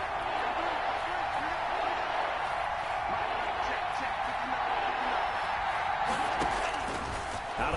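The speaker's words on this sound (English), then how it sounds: "That just means this crowd's going to get even louder" A football stadium crowd at a wild card playoff game, facing third and goal, roars in a steady dense wash of noise that swells slightly toward the end, with a commentator talking over it.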